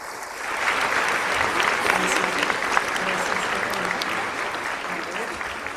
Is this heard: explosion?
no